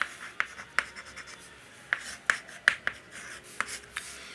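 Pen writing on paper during a trigonometry lesson: a run of sharp, close scratchy strokes and taps in irregular bursts, fairly quiet, with no talking over it.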